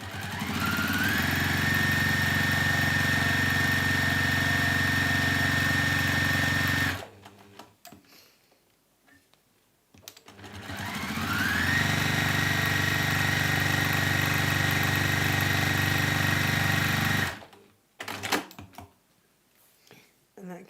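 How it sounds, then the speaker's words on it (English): A sewing machine top-stitches down both sides of a cork fabric handle: two long steady motor runs of about seven seconds each, with a short quiet pause between them and light handling noises afterward. "And you want to just top stitch down both sides"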